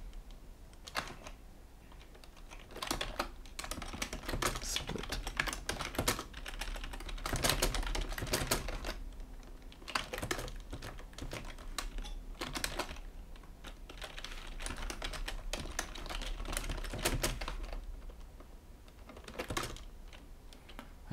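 Fingers type steadily on an ergonomic computer keyboard placed right beside the microphone, a dense, close clatter of keystrokes coming in bursts with short pauses and no speech.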